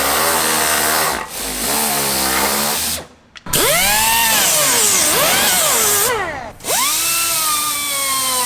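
Loud power tool whining and grinding in bursts as it smooths a trimmed car bumper, its pitch rising and falling as it bites into the material, with two brief pauses between passes.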